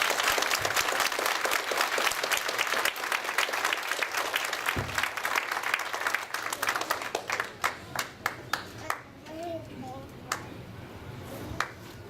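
Loud, dense applause from a church congregation gradually breaks up into scattered individual claps. A few voices are heard under the final sparse claps.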